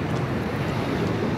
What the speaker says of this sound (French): Effectivement, il y a un petit peu de vent.